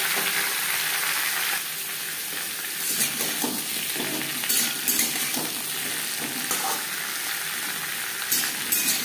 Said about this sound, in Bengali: পেঁপের কাঁচা গন্ধ যাওয়া পর্যন্ত একটু ফোড়নের সাথে পেঁপে সাঁতলে নেব